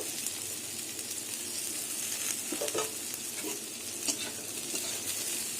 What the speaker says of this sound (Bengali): এবার নিম পাতা দিয়ে কুমড়ো দিয়ে মিশিয়ে নেবো ভালো করে